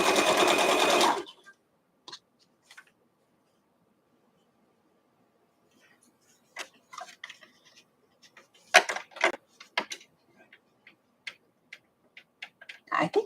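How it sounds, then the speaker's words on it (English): A sewing machine stitching a quilt block, opening with a dense run of rapid stitching that then breaks off, followed by scattered clicks and short mechanical bursts from the machine being handled. "I'm sewing it from the back side so I don't start at a point."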